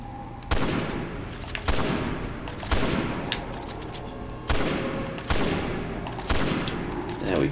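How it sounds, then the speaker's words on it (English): Heavy gunshots from a sniper rifle in Resident Evil 6 boom out about six times at irregular intervals, each a sharp loud blast with a decaying tail, over a low game background. "I'm gonna use the rest of my sniper rifle"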